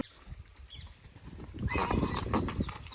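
A mare sets off at a walk, her hooves clip-clopping on the ground. The steps start faint and grow louder and denser in the second half over light background noise.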